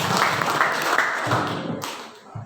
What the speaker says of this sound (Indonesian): Beri tepuk tangan sekali lagi untuk paslon nomor urut